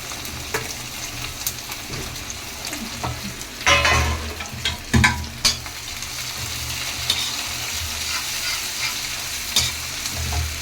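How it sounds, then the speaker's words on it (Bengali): Onion, chili and garlic frying in spattering hot oil at home, a steady loud sizzle with sharp pops and stirring scrapes, strongest bursts around the middle, no talk. "তেল ছিটছে গো।"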